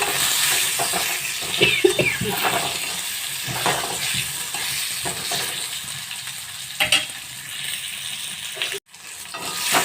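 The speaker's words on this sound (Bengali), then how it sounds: "এবার এর মধ্যে পরিমাণ মতন হলুদ গুঁড়ো আর লবণ দিয়ে দিচ্ছি একসঙ্গে, দিয়ে হালকা করে এবারে ভেজে নেব" Mango pieces for a chutney frying with turmeric powder and salt, a loud steady sizzle broken by stirring scrapes and a brief drop near the end, no talking.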